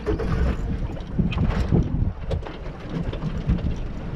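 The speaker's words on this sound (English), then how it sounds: "Got to turn the engine on." A fishing boat's outboard engine off Point Lookout rumbles low and loud through continuous wind buffeting on the microphone, a rough droning churn with no one speaking.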